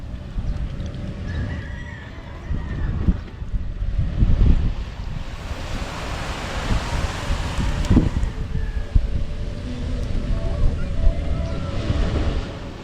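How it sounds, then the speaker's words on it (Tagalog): Strong wind buffeting a small boat at sea, a continuous rough rumble with gusting swells and splashing water, close and fairly loud, with no clear speech. "Grabe lakas ng hangin."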